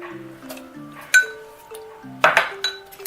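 Metal spoon clinking against a pot or glass while stirring sugar into boiled milk for falooda, a few bright clinks and taps scattered over the stretch, close and fairly clear.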